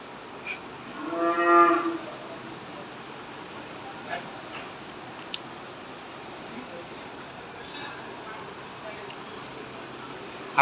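A single cow gives a loud low moo near the start at a cattle sale ahead of the Eid sacrifice in Rajshahi, followed by fainter livestock sounds and a person talking.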